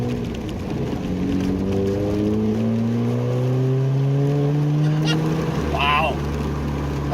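An MK6 Ford Fiesta track car on coilover suspension accelerating hard, its engine droning loud and close with rising and falling pitch through gear changes, plus a brief higher squeal near the end.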